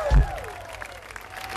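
A live outdoor concert audience on Toronto Island claps and cheers in a brief burst that quickly thins into scattered applause, with crowd voices and murmur mixed in.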